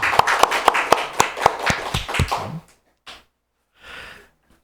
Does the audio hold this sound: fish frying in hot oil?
no